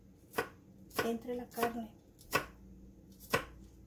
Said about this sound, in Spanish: Los ajos los voy a picar finamente para después.